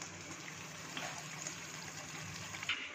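Water is poured into a thick cashew gravy for dum aloo, heard as a faint, continuous gush and trickle under background noise, with no talking.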